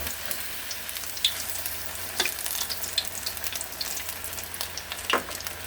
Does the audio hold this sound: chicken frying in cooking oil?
yes